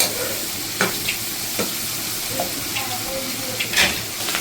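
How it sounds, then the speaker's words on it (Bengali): Soya chunks fry in butter in a pan for a chilli fry, giving a steady close sizzle broken by a few sharp stirring scrapes and clacks. "সবগুলো এইভাবে ফ্রাই হতে থাক, 2 মিনিট এরকমভাবে ভেজে নিতে হবে।"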